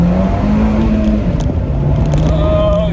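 A 2017 Fiat 124 Spider Abarth under throttle gives a loud, steady engine drone with rising and shifting pitch as it pulls, heard from inside the car, with road and wind rumble beneath and no talking.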